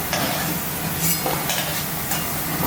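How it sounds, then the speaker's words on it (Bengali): Young jackfruit fries in hot mustard oil in a pan, a close, steady sizzle punctuated by several scraping stirs and light utensil clinks, with no talking. "এই তেলের মধ্যে ইঁচড়টা ভেজে নেব, ইঁচড়টাও চাপিয়ে দেব।"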